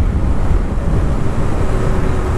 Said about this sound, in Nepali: जङ्गलमा चाहिँ अलिकति ऊ हो कि जस्तो ऊ हावा हानिरहेछ क्या